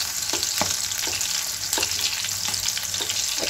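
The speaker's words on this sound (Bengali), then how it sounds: "একদম ছোট যে চিংড়িগুলো সেগুলো এভাবে ভেজে নিচ্ছি" Tiny prawns fry in oil, giving a steady crackling sizzle with repeated soft taps and stirs as the pieces are turned, close and clear.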